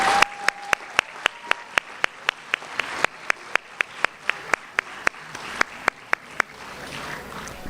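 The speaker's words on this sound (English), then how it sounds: "please join me in a final round of applause" Applause at a Board of Education meeting honouring educator award recipients, a thin crowd clapping with sharp, distinct claps standing out in a quick, uneven rhythm before fading out.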